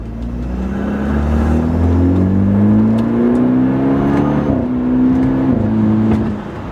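A BMW F30 with a flashed transmission accelerates hard, its engine note climbing steadily in pitch before dropping sharply at quick gear shifts, loud and close from inside the car with no talking.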